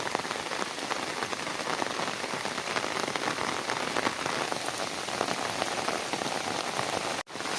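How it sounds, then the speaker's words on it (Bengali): Heavy rain pours steadily on a village on a Sunday morning, a dense, loud, continuous hiss of drops on surfaces with no letup and no voices. "তোমরা দেখতেই পাচ্ছ কত জোরে বৃষ্টি এসছে"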